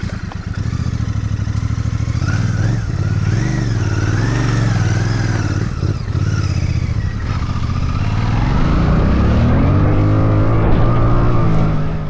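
Royal Enfield Bear 650 scrambler motorcycle engine heard while riding, a steady loud drone with shifting pitch as revs rise and fall, climbing toward the end, with wind noise throughout.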